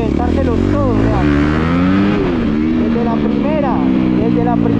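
A Honda CRF 250 dirt bike engine revs hard and loud through its gears, its pitch climbing and dropping with each shift. A voice talks over the close engine.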